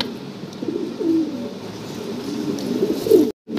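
Imported fancy pigeons, a breeding pair, coo in low, steady throbbing calls close by, with a few louder coos standing out over soft background rustle.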